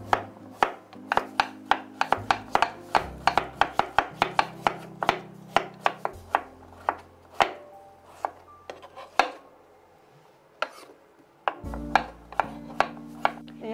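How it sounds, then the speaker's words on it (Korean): Knife chopping potatoes on a cutting board, a steady run of sharp, close blade strikes with brief pauses between bursts and a low background hum. "그 다음에는 감자를 썰겠습니다"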